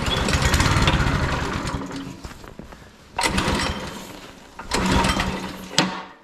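Small engine on a tractor-pulling event vehicle being pull-started, sputtering into a loud rough run, then revved in a couple of surging bursts with short pauses between.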